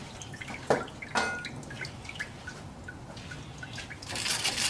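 Water rinsing grease off the engine cover of a 1976 GMC Sprint, with scattered drips and splashes, a couple of louder spatters, then a rising, steadier wash of water near the end.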